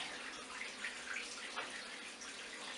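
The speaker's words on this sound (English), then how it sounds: "So here's the water wheel." Steady rushing, splashing water with a constant churning hiss from a mill's turning water wheel, fairly close and uninterrupted, no voices.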